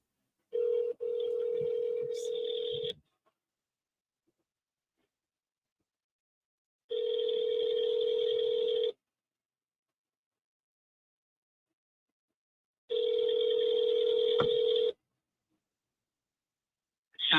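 Ringback tone of a telephone call to the TMZ tip line, three long steady rings in even succession separated by silent gaps, clear and close with no talk.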